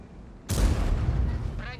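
A tank cannon fires in World of Tanks, a single loud, sudden boom that rolls into a sustained rumbling roar lasting well over a second, with a faint metallic ring near the end.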